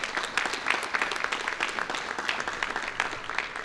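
A small room at a mayor's press conference applauds a city parks employee with steady, moderately close clapping from a modest group, even and sustained with no voices over it.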